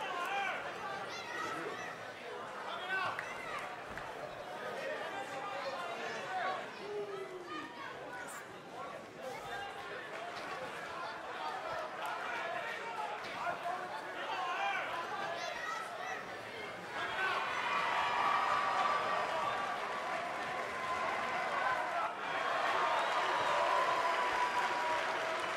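A crowd at a WFA Ultimate professional wrestling event roars and applauds continuously for about 25 seconds, with dense chatter through the first part and a swell of louder cheering over the final stretch.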